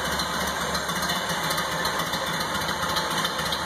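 A 1929 Ford Model A Tudor sedan engine idling steadily and close, a continuous even running rumble with light mechanical chatter and no talk.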